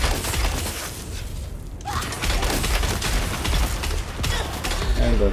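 Gunfire from a dart weapon in the video game Dune Awakening crackles in rapid bursts with thuds and booms, loud and dense, pausing briefly partway before the shooting resumes.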